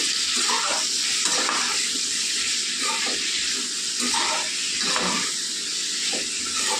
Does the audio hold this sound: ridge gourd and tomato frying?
yes